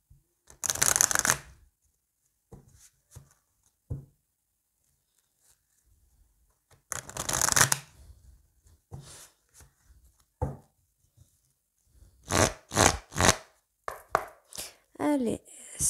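Oracle cards shuffled by hand during a tarot-style reading, several quick riffling bursts separated by pauses, close and crisp, ending in a rapid run of short shuffles.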